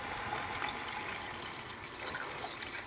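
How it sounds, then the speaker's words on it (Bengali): Water is poured into a cooking pan of spiced masala for a Bengali fish curry, giving a steady, close trickling and splashing flow that runs without a break and with no talk. "এবার আমি এখানে জল অ্যাড করে নেব।"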